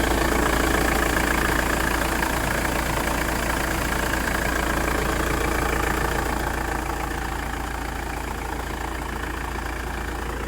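A van engine idles steadily after its battery has been reconnected, a constant low rumble throughout with no talk, easing very slightly quieter toward the end.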